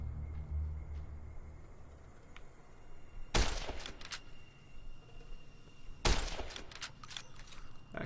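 Gunfire in the video game Fallout New Vegas: two sharp bursts of shots about three seconds apart, each with a quick rattling tail, over a quiet low game background.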